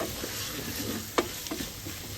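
Brinjal pieces cook in oil for a flat-bean and tomato curry, giving a soft, steady background sizzle with a couple of brief utensil taps, quiet and close, with no voices.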